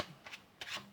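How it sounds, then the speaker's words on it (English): Playing cards riffled and shuffled by hand during a card trick, heard as two short papery bursts of rubbing and flicking, close and fairly quiet, with no talking. "all you need to do is shuffle that card to the bottom."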